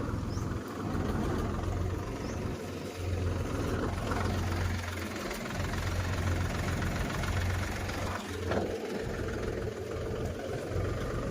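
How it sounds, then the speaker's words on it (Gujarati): A farm tractor's diesel engine rumbles low and steady in an open field, a constant chugging drone with no voices over it. "આ જો ટ્રેક્ટર આવે છે।"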